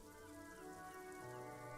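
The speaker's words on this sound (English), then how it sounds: "Rain drips from the eaves and floods the gutters, washing the filth away." Rain falls over the city of Revachol in the video game Disco Elysium, a faint, steady wash of drizzle beneath a sustained, tonal ambient drone.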